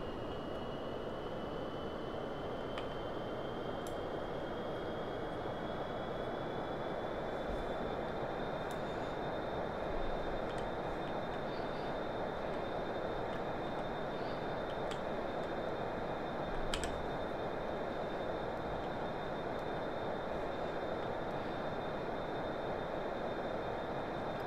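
Aircraft taking off in the Roblox video game on an aircraft carrier, a steady, fairly faint engine roar with a high whine that rises slightly in pitch and then holds, running unbroken throughout.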